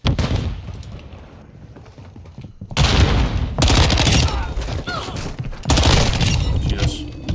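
A stun grenade and gunfire in Modern Warfare 2: a quieter stretch gives way to loud, dense bursts of rapid shots and blasts that come in two heavy waves, with a short lull between them.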